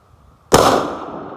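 A single sharp, loud rifle shot cracks out during a backcountry elk hunt in Colorado, with a short echoing tail fading over the following second.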